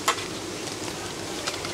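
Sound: sausages frying in oil

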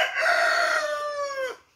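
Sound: rooster crowing

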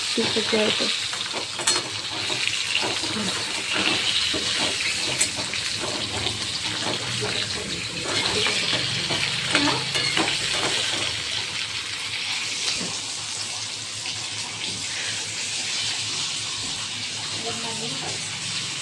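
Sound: crab frying on low flame in a pan

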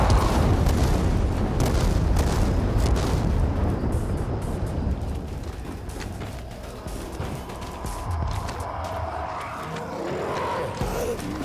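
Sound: grenade explosions in the video game Dying Light 2

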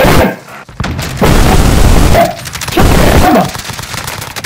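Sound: gunfire in Call of Duty Modern Warfare video game

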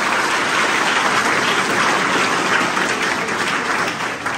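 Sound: audience applauding loudly

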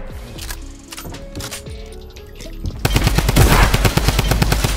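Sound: gunfire in the video game Fortnite

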